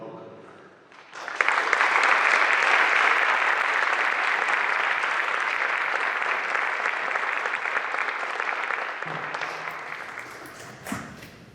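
An evening lecture audience applauds to welcome the lecturer, a sustained, steady clapping that swells quickly, holds for about eight seconds and then fades out.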